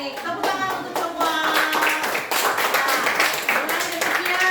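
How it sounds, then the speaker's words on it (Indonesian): A classroom group claps for all the poster groups in a Christian religious education lesson, a brisk burst of hand clapping with uneven rhythm, fairly close, with some voices mixed in. "Tepuk tangan untuk semua."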